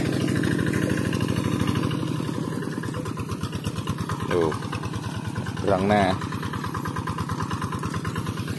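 A tractor engine runs steadily on a narrow village road near harvested fields, a close, continuous low chugging throb with brief louder surges, while people talk over it.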